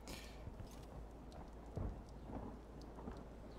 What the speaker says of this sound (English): Oh, I love thunderstorms.